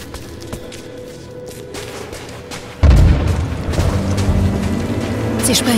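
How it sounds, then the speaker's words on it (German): A heavy explosion blasts a path open in Rise of the Tomb Raider, a sudden deep boom followed by a sustained rumble and debris over ambient noise, with talk faintly underneath. "Sie sprengen sich den Weg frei."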